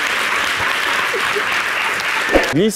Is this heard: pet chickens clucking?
no